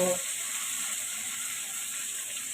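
Chopped tomatoes dropped into a hot pan of onions, giving a brief soft thud followed by a loud, steady hissing sizzle that continues evenly.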